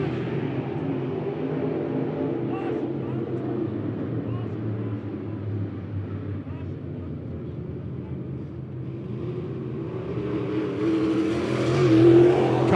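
USRA Modified race cars roar around the Monett Motor Speedway dirt oval, a steady distant engine drone with crowd ambience and a rising surge near the end, under continuous announcer commentary.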